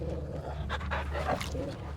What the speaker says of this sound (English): Pet the doggy. Get it, boy!